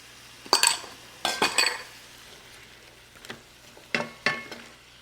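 A few sharp metallic clinks and scrapes from a spoon against a pan while garlic cloves go in with sliced onion and celery, spaced bursts over a faint cooking hiss.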